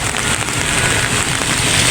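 Heavy rain falls steadily in a street market, a dense, loud hiss of drops that fills the short stretch without pause.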